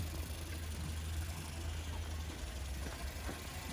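A Mamod Brunel model steam engine runs outdoors in a rainy backyard, giving a low, steady idling hum with a faint continuous rumble and no speech.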